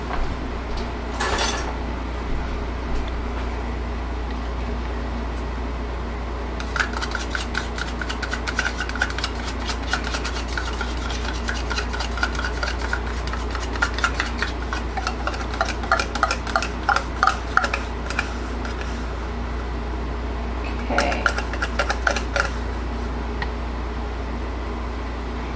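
A spoon clinks and scrapes against a container while soap batter is stirred, with bursts of rapid, close metallic taps over a steady low hum, quiet stretches between them.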